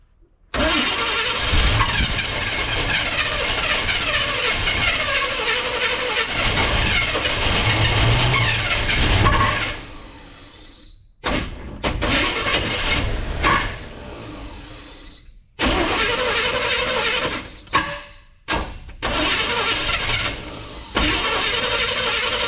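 An abandoned Chevrolet C10 square body pickup truck's engine cranking and catching, running rough and loud for about ten seconds, then a series of restart attempts with bursts of cranking and revving separated by short silences.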